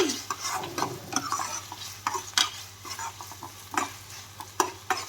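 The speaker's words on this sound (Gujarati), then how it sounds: "અને ખાલી નિમક એડ કરી અને બધું જ સારી રીતે સાંતળી લેવાનું છે।" Vegetables and potato chips being stirred and sautéed with salt in a pan over a medium gas flame, with repeated scraping strokes of a utensil over a steady close sizzle, no talking.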